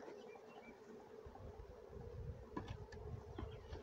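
Swarming honeybees in a bee yard make a faint, steady buzzing hum that runs through the whole stretch, with a few soft rustles and taps near the end.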